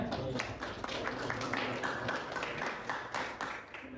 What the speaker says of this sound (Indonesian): beri aplaus ya